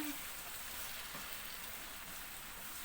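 A steady crackling sizzle of food frying in a pan, close and continuous, with no talking.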